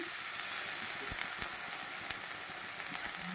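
Tomatoes, green chilies, salt and a ginger-cumin paste sauté in a pan with a soft, steady sizzle and occasional small crackles, heard quietly and alone.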